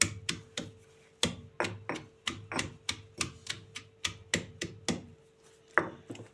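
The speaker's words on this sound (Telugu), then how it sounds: "ఇవైతే జీలకర్ర, ఉల్లిపాయ ముక్కలు, చిన్న అల్లం ముక్క నేను ఇలా కచ్చపచ్చ అయితే దంచుకుంటున్నాను" Cumin, onion pieces and a small piece of ginger are coarsely pounded, producing a steady series of sharp thuds at an even rhythm, close and alone with no talk.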